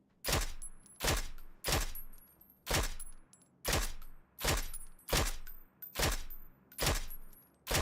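Gunfire in the PUBG video game, a rapid series of about ten loud, evenly spaced shots with short echoing tails, heard alone without talk.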